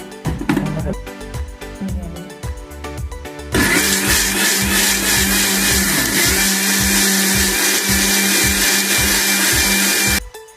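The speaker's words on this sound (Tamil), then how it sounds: "இப்போ கொஞ்சோண்டு தண்ணி விட்டு ஃபைன் பேஸ்டா அரைச்சி எடுத்துட்டு வந்துடுறேன்." Some clattering, then a mixer grinder starts abruptly and runs loud and steady for about seven seconds with a pulsing whir, grinding spices with a little water into a fine paste, before cutting off.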